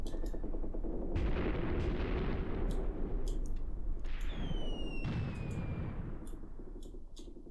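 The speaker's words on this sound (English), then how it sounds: "Do we have mortar fire landing here?" Mortar and artillery rounds land in Graviteam Tactics, a World War II tactical wargame. Heavy booming impacts and crackling gunfire roll on continuously, with a thin whistling tone sliding down midway and distant sharp reports scattered throughout.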